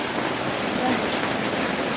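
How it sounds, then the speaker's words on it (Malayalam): Heavy rain pours down in a steady, dense hiss, loud and unbroken, drumming on nearby surfaces. "നല്ല മഴയാണ്"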